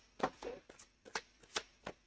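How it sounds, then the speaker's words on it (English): Tarot cards being shuffled in several quick riffling bursts, close up, with short pauses between them and no talking. "Giving the cards good shuffle here."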